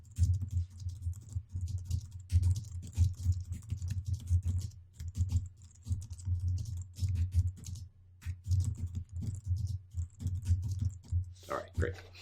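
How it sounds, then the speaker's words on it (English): Rapid, steady tapping on a computer keyboard, close and continuous with brief pauses, over a low background hum. "let me just type in this little message"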